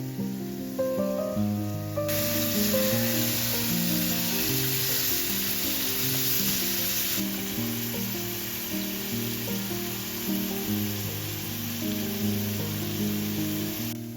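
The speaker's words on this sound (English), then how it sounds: "Add your beef and sear until it's beautifully brown on all sides" Beef chunks searing in hot oil in a pot for Filipino caldereta, a steady close sizzle and hiss under background music, no talk.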